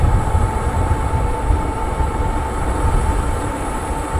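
An electric bike's motor hums under throttle while climbing a hill at around 19 mph, a steady loud drone with rumbling wind and road noise and no talking.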